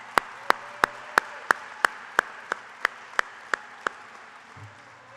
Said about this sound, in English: let's take a quick round of applause for these guys as well